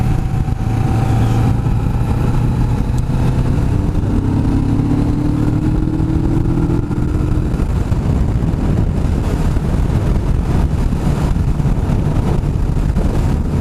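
Kawasaki Vulcan S650 motorcycle, its 650 parallel-twin engine shared with the Ninja 650 and ER6, running loud and close with a continuous throaty drone and rising revs, heard without any talking.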